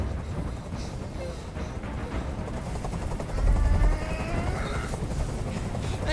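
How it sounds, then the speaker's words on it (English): A helicopter's steady rotor thrum fills the air, a low continuous pulsing drone with a brief heavier swell partway through. "I can't stand that noise anymore! Tell that helicopter to get out of here!"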